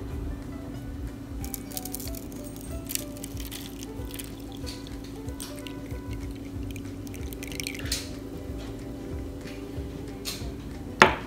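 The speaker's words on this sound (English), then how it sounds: "we're gonna pour it in our last tray." Green crystal-growing solution poured into a kitchen tray, a steady liquid trickle with small drips and splashes running throughout, close and fairly quiet, ending on a louder splash.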